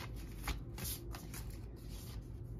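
A tarot card deck being shuffled, a soft continuous riffle of cards with a couple of slightly louder flutters, close and quiet.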